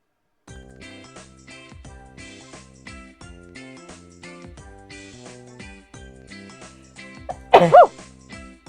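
A single loud sneeze near the end, breaking over a steady background of quiet music.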